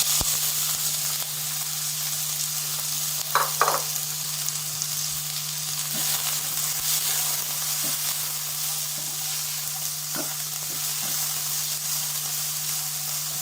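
Bell peppers, two medium ones, fry in a spoonful of oil in a pan with a steady, close sizzle, a few stirring clatters breaking through now and then.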